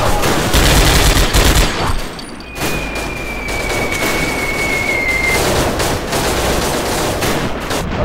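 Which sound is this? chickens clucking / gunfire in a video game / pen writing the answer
gunfire in a video game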